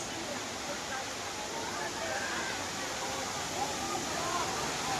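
Hinulugang Taktak waterfall, a steady, broadband roar of falling water filling the whole scene, constant and fairly close, with faint crowd murmur underneath.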